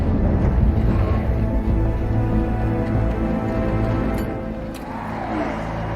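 A racing car engine roars in the movie F9, a loud, steady drone that holds throughout with a slight dip near the end, with no talking over it.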